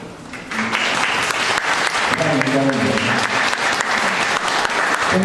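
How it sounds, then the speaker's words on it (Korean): Audience applause welcoming a performer dressed as Confucius on stage at a theater performance in a gallery, a loud sustained round of clapping with some voices and cheers mixed in. "공자님을 청할 때 여러분 뜨거운 박수로 환영해 주시기를 부탁을 드립니다"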